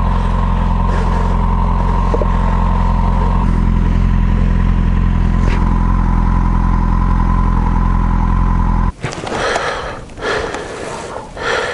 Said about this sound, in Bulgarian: За първи път с този мотор ще карам по трева.